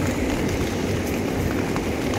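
Rain falls on a seaside campsite during a storm, giving a steady, moderately loud wash of noise that runs unbroken for a couple of seconds.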